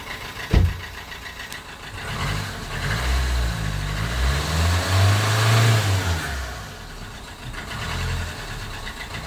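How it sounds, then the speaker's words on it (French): Car engine revved in repeated bursts of acceleration during a no-disassembly diesel particulate filter cleaning with KN Mecarun, a loud close rumbling roar rising and falling over several seconds after a sharp knock at the start. "mon fils il va faire des coups d'accélération"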